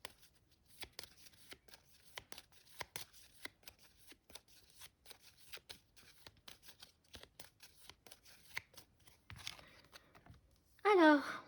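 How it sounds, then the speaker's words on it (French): Tarot cards are shuffled by hand in a steady run of quick flicking riffles, close and fairly soft, ending with a louder rustle and a brief high squeak near the finish. "Maintenant, je vais mélanger."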